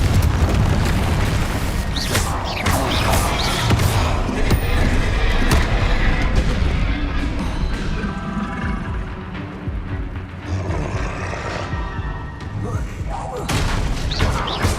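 Confringo blasting spells explode repeatedly during combat in the video game Hogwarts Legacy. Deep booms and rumbling blasts follow one another almost without pause, loud and dense, with crackling bursts and other spell effects layered over them.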